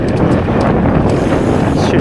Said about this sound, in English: Hopefully the wind's not too bad.